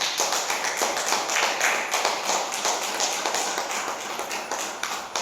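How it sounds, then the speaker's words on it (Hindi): An audience claps loudly and continuously in a dense, close patter of many hands. The applause stays strong for about five seconds with only slight swells. "चलिए जिसके माध्यम से यहाँ पहुँचे हैं उनके लिए ज़ोरदार तालियां बजा दीजिए"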